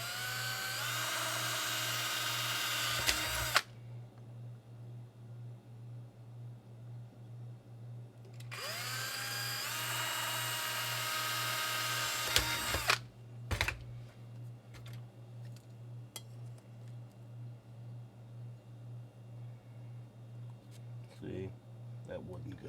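A power drill bores holes through tightly clamped pieces of colonial Mandalorian jetpack armor in two loud, close, high-pitched whining runs of several seconds each, with a steady background hum and some quiet handling noise.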